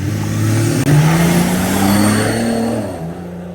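Modified Jeep TJ with an intercooler kit, Banks Monster exhaust and roughly 300 horsepower revs up in a loud, nearby engine note that climbs steadily and then eases off toward the end.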